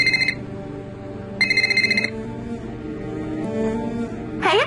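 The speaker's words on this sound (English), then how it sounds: "Oh, and we get a phone call." A telephone rings in the video game Nancy Drew: The Deadly Device, two loud bursts of trilling bell-like rings separated by a pause, set over a low ambient game soundtrack.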